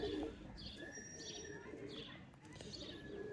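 Sialkoti bloodline Bateray pigeons coo softly, with faint chirps and tweets mixed in, quiet and somewhat distant.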